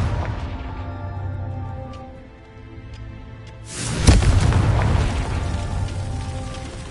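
A fire spell bursting in a Harry Potter Hogwarts game lands as one loud, deep boom partway through. It follows a quieter, humming stretch and leaves a rumbling tail that fades out slowly.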